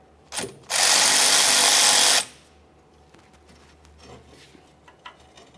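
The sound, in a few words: ratchet with 14mm socket removing brake caliper banjo bolt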